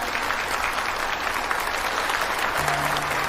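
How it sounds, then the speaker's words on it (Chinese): An audience at a mobile phone product launch applauds steadily, a dense, continuous clatter of many clapping hands throughout. "大家掌声欢迎。"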